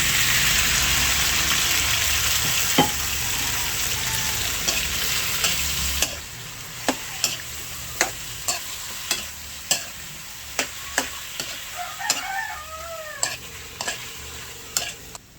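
Chicken feet sizzle loudly in a hot pan, then the frying quiets as a utensil scrapes and clinks against the pan in a steady rhythm.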